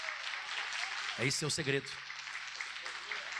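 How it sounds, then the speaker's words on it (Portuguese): Steady applause from a church congregation praising the Lord runs throughout, continuing under a man's brief spoken line from the preacher. "Aplauda bem forte ao Senhor."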